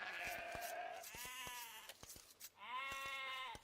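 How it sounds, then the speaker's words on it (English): Sheep in an Age of Empires real-time strategy game bleat in several drawn-out, wavering calls, punctuated by short sharp game clicks and taps, with no voices. "Queues up the next sheep."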